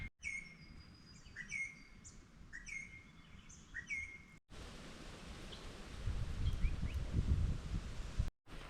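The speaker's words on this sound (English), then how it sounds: "There's just no sounds other than the trees, the wind and the little birds." Little birds chirp and tweet in repeated short phrases among trees on the Bibbulmun Track in the bush between Dale Road and Kalamunda, with a soft rushing wind that swells louder in the second half.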